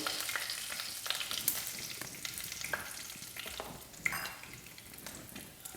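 Cumin seeds and asafoetida fry in hot oil with a steady crackling sizzle and occasional sharp pops, close and continuous, with no talking, while aloo matar curry is being made.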